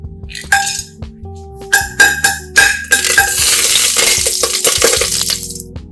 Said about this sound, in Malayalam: എണ്ണ ചൂടായി. ഇനി ഇതിലേക്ക് 1 കഷ്ണം പട്ട, 3 ഗ്രാമ്പു, 2 ഏലക്ക,